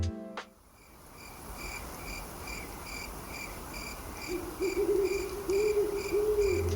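Night ambience from the Witcher video game, with a steady bed of chirping crickets and insects pulsing in a regular rhythm and a low owl hoot repeating toward the end, all moderately quiet with no talking.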